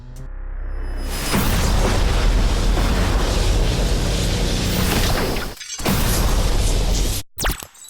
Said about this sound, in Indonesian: terakhirnya juga gue kasih cinematic boom gitu untuk mempertegas ledakan terakhirnya